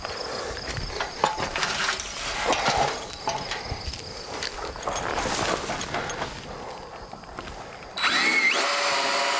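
An impact driver with a 9/16 socket drives bolts on a Shadow Hunter hunting blind, a steady buzzing whir with rattly hammering that swells and grows louder near the end, close up, with no talking.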